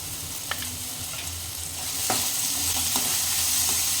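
Masala with tamarind pulp, tomato and salt sizzles steadily in a pan while a spoon scrapes and stirs it with occasional soft clicks, close and moderately loud.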